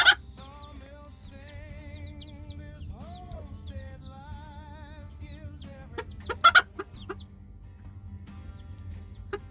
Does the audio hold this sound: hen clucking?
yes